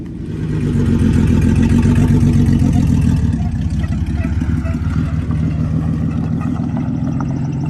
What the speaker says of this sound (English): Bronco does drive. Still running a little low.